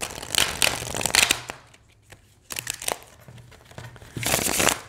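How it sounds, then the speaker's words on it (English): Thin Golden Girls tarot cards being shuffled by hand in two bursts of crisp riffling and flicking, a quiet pause between them, then a final loud flurry of shuffling close up. "let's get into the shuffling"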